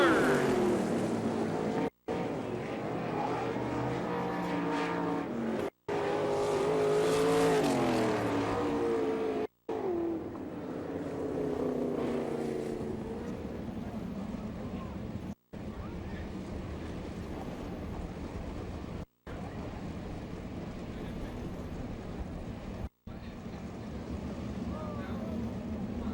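Sprint cars at an All Star Circuit of Champions dirt-track race in Florence, Kentucky roar past as they pick up the throttle out of turn four on the green flag. The engine drone is loud and steady, with a commentator talking over it.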